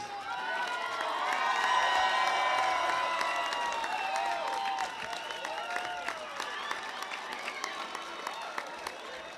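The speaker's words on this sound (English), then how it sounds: "give him a round of applause, please" At an acceptance speech, an audience applauds and cheers, with a broad wash of clapping and high shouts and whistles that is loudest early on and then thins into scattered claps, heard from a distance in a large room.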